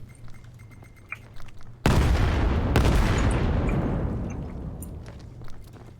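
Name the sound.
artillery fire in the Vail video game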